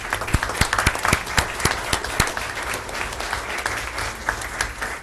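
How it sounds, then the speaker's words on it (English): An audience at a board of education meeting applauds, with scattered individual claps standing out at first before the clapping settles into a steady, moderately distant patter. "So a round of applause for the support that you've had from your colleagues."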